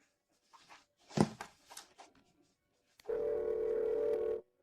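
A phone call is placed: a few faint taps and rustles, then a loud, steady dial tone rings alone for about a second and a half.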